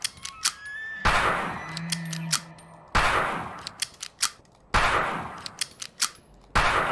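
Several sharp gunshots fired at a moose in the horror hunting game Dread X Collection The Hunt, loud broadband cracks spaced a second or two apart, each trailing off into a short decay.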